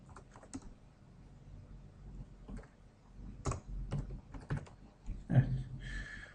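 Bursts of typing on a computer keyboard while entering data in CAD software, quiet clicks in short irregular clusters separated by pauses.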